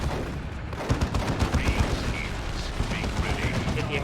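Heavy weapons fire from a Devastator lascannon blasting an orc turret in Dawn of War 2, a steady run of repeated booming shots and crackling impacts under a dense battle din, with a commentator's voice faintly mixed in.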